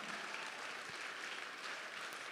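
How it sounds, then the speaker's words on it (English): Faint, even wash of audience applause at a business hall of fame gala honoring award recipients, soft and distant-sounding, steady throughout with no voices standing out. "One more round of applause for Satbinder and Leah."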